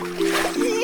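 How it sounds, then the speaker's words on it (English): A child jumping into water at a jetty, one brief splash under a voice. "At Jumbo Jetty, playing outside means jumping into the water."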